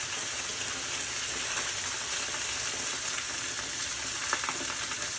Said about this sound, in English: My skillet is nice and hot, very, very, very hot. Put that down in here.